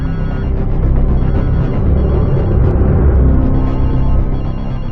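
Telephones ringing as police call in during a hostage standoff, a dense, continuous loud ring that fills the whole stretch without pause.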